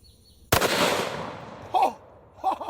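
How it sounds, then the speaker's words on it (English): A Remington 887 12-gauge shotgun firing a single 2 3/4 inch, 1 ounce slug, one sharp loud blast with a long decaying boom, followed by short bursts of voices. "So now we're going to see what happens when we step it up to a 12 gauge shotgun"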